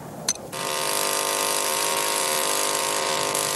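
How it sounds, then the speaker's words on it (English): A diamond core drill bores into old, undisturbed lava rock to extract a core sample, starting after a brief knock and then running as a loud, steady, high-pitched grinding whine. "A diamond drill is used to obtain cores of lava."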